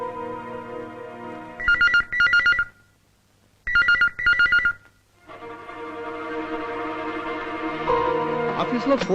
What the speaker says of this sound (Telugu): ఆఫీస్ లో ఫోన్ రింగ్ అవుతుంది, ఎవరు ఎత్తడం లేదు.